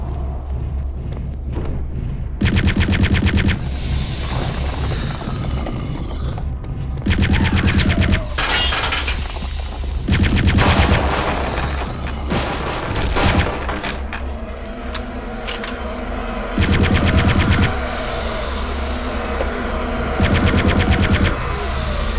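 Loud bursts of automatic gunfire ring out in the video game Return to Castle Wolfenstein, repeated volleys separated by shorter pauses over a constant game background rumble.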